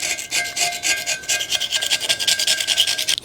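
A hand file rasps back and forth across the face of a car's exhaust flange, quick rhythmic close-up strokes repeating steadily for a few seconds.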